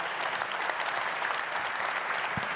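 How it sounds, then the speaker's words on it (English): An audience applauds panelists at the close of a seminar discussion, a dense, even wash of clapping that holds steady and fairly close throughout the short stretch. "Please give them a round of applause."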